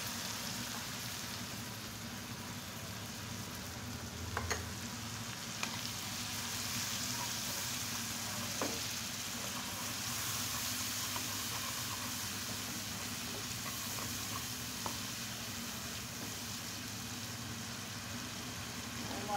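Onion, garlic, ginger and cumin masala paste sizzles with pangas fish in a pan, a steady low hiss with occasional faint pops and scrapes, heard close and alone.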